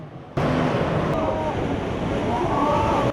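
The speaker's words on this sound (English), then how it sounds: "Watch as a massive wall of black water breaches the seawall and swallows a city in Japan." Tsunami's black wall of water breaches a seawall and floods a city in Japan, a sudden loud, broad roaring rush that holds steady for about three seconds before cutting off.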